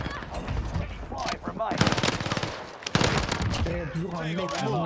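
Automatic gunfire from the Marco 5 gun in Call of Duty Warzone, several loud rapid bursts up close, with a brief gap between them, under and between a player's excited talk.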